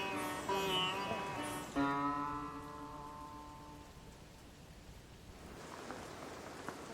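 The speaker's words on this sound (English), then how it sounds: "It's still pouring with rain." Heavy rain pours down on a Sherpa village in the Everest region during late afternoon, a steady wash that softens after a brief tonal sound near the start.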